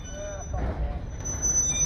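Railroad cars roll slowly into the Lake Superior Railroad Museum, giving a low steady rumble with thin wheel squeals and a faint high whine, close by, with some voices in the background.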